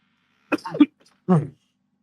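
A person coughs and clears their throat in two short, close bursts separated by a brief pause.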